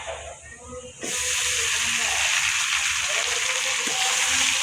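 Potatoes dropped into a pan of browned chopped onions while cooking tilapia fish set off a sudden loud, steady sizzle that keeps hissing after a quieter opening moment.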